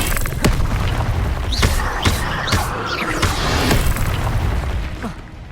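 Incendio fire spells are cast in the video game Hogwarts Legacy, several loud, sharp booming blasts with crackling bursts at irregular intervals over busy combat noise, and a voice calls out spell names.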